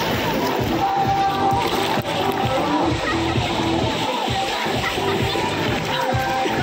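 Water splashing and sloshing at a water park pool, a dense, continuous wash of splashes close by with a busy crowd murmur and voices mixed through it.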